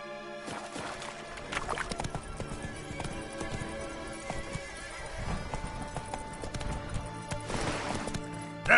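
Roach, a horse in The Witcher, gallops with steady clip-clop hoofbeats and an occasional whinny, set against a full orchestral score that plays throughout.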